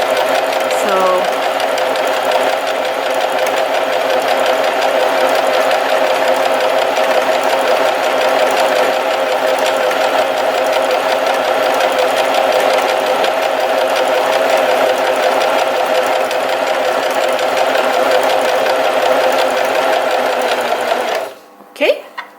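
A basic sewing machine runs continuously while stitching a T-shirt sleeve, with a steady, loud, even whir that stops abruptly near the end.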